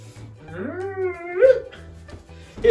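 A dog howls up close in a rising, wavering tone, then gives a couple of shorter yelping howls, and someone talks briefly between them.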